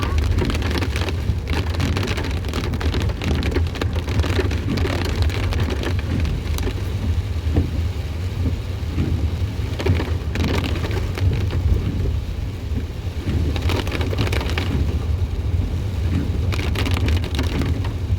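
Steady, heavy rain pours down in a dense forest wildlife reserve along the Ooty to Mysore road through Bandipur and Mudumalai, a continuous close hiss with scattered drips and no talking.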